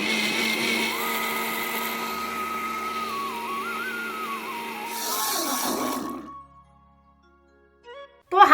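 A mixer grinder blending a milkshake whirs loudly with a wavering high whine for several seconds, then winds down and stops, leaving near silence.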